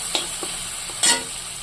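Ginger, garlic and green chili paste drops into a pan of frying tomato, onion and coriander, giving a steady sizzle with a few soft stirring scrapes and a brief louder hiss near the end.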